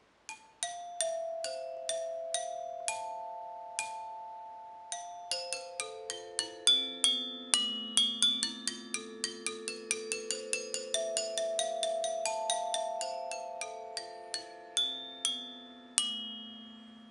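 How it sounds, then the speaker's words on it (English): A Freenotes Wing metal-bar percussion instrument struck with the hard, non-padded mallet ends, giving bright, ringing bell-like tones in a quick, flowing run of many overlapping notes that sustain and decay, close and alone. "we can also turn the mallets around, so we're now going to play with the non-padded end"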